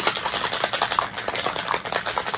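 Ice rattles in a cocktail shaker while a Clover Club cocktail is shaken, giving fast, loud, rhythmic clattering bursts throughout with no talking.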